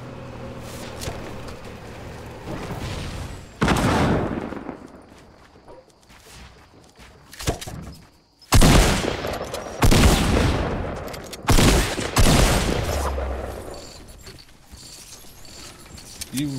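Gunfire in the video game Fortnite during a duo tournament match: loud, repeated volleys of shots and booms come in dense bursts and scattered single shots, with game noise between them.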